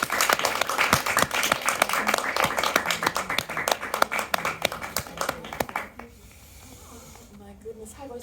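Audience applause at a performance and presentation event, a smaller group clapping in distinct, irregular claps, fairly close and loud, that fades out after about six seconds into quieter room sound and a voice.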